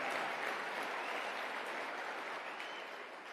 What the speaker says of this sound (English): I'll take some applause on that